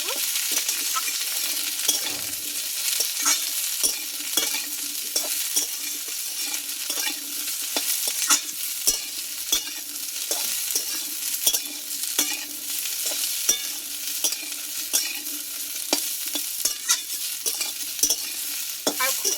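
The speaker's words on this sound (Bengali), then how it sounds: "বরবটিটা দিয়ে আমি একটু নাড়াচাড়া করে" Yardlong beans and potatoes frying in a pan, stirred steadily with repeated scraping and tapping of the spatula over a continuous sizzle, close and fairly loud throughout.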